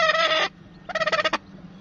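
A hen clucks in two short bursts, a sustained call then a rapid pulsing series, fairly close with a quiet pause between.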